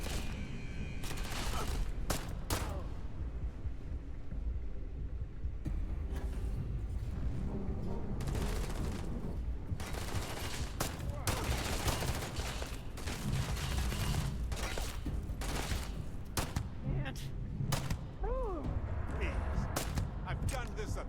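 Video game gunfire, with dense bursts of rapid shots and booming blasts rolling on continuously, heavy and loud, with talk mixed in.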